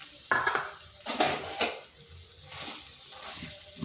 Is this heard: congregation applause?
no